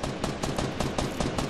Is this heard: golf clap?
no